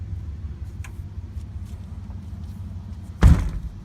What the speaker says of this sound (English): Door closes and locks.